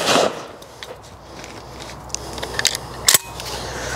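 A semi-automatic shotgun cycles, with a few sharp metallic clicks and a crisp snap near the end as the cartridge is ejected out the side, heard outdoors with no talking.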